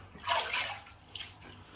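Tap water runs in short, splashing bursts as a razor is rinsed during a wet shave, fairly faint and close, with softer trickles between the gushes and no talking.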